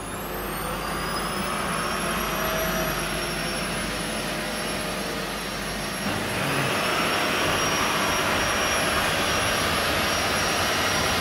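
Solidscape wax 3D printers run in a noisy printing room at a jewelry manufacturing facility in Bangkok, a loud, steady broadband machine roar with high whining tones that shifts slightly partway through, no talking.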